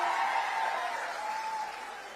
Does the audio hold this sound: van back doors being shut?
no